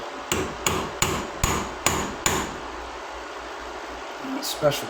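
Six sharp metallic hammer taps strike in an even rhythm, close and crisp, punching a guide dent into metal for a drill bit, then a quiet hum lingers with a faint rustle at the end.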